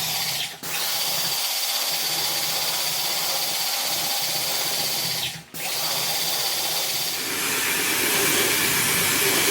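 Steady broadband hiss of a water spray rinsing a chemical coating off a tire, continuous and fairly loud, with two brief dips where the spray cuts out momentarily.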